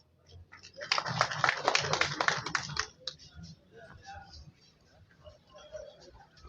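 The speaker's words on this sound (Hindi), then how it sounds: "जोरदार तालियां" Loud burst of applause from a crowd at a memorial gathering honouring the four Sahibzades, held at a warehouse by a transport welfare association, lasting about two seconds before dying away into background chatter.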